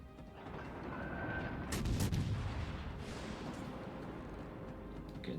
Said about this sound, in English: Getting another volley of AP down range.